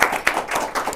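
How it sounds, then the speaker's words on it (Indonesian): An audience claps for a guest at a talk show, a few quick, loose claps close by in a brief burst. "Tepuk tangan dong."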